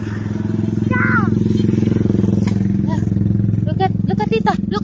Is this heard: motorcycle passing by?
yes